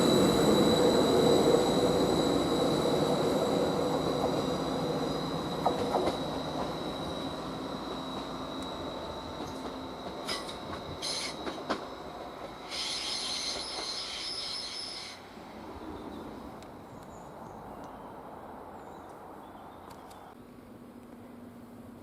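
A Greater Anglia passenger train pulls out of Westerfield station, wheels squealing in sustained high whines and rail noise fading gradually as it draws away, with no talk.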